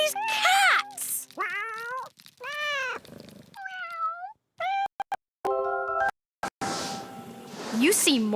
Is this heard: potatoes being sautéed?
no